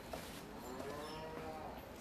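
Goats at a contact petting zoo bleat a few times, drawn-out wavering calls heard faintly over a noisy, steady background.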